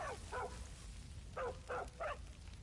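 Repeated barks from a dog in the video game Far Cry 5, five clear yips in two groups, moderately close, over a soft background hum with no speech.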